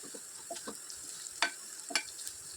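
Onions and green chillies frying in a pan for North Karnataka junka, a quiet sizzle with a few sharp spatula scrapes and stirs, faint and without talk.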